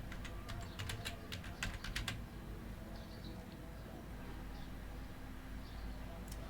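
Rapid keystrokes on a computer keyboard as a WordPress plugin name is typed into a plugin search field, a quick burst of clicks over about two seconds followed by quiet room tone.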